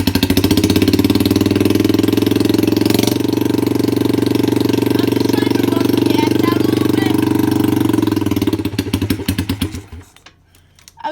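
A dirt bike engine idles loudly in a garage with a fast, rough, steady putter and clatter, then sputters and dies near the end.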